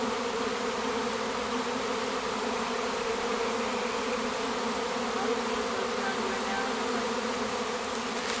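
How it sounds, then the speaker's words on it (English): Honeybee swarm pouring into a hive entrance, bees crawling and clustering: a dense, steady buzzing drone of many bees close by, unbroken throughout with no voices. "Yeah, I'm surrounded by bees, and there's, they don't care about me."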